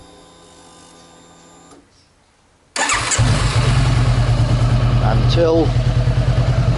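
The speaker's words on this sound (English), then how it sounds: "You let your bike run for about 10 minutes or so." Honda CB500X motorcycle engine after a coolant replacement, starting up and settling into a loud, steady, rhythmic idle close by, following a quieter mechanical hum and a brief spoken word.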